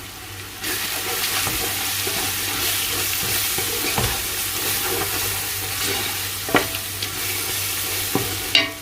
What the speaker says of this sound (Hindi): मसाले को मैं अच्छे से पकाऊंगा।